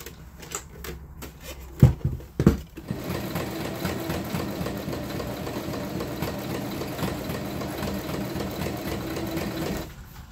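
A sewing machine runs steadily while hemming a garment, a continuous fast mechanical whir lasting several seconds after a couple of sharp handling knocks at the start, close and fairly loud.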